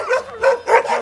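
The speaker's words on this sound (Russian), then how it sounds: "Это и есть собачка с Курнатовского." A tiny dog yips close up in three or four quick, high, even bursts within a single second, with no talk over it.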